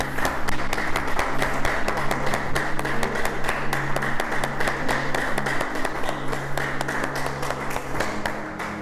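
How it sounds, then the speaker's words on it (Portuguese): A church congregation breaks into sustained applause, dense clapping from many hands filling the hall at a steady, loud level for several seconds, tapering slightly at the end. "Vamos aplaudir o Senhor."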